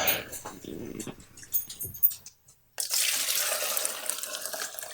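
Chicken noodle soup broth poured out, a loud steady splashing stream that bursts in after a short silence and continues, preceded by clinks, handling noises and scattered drips.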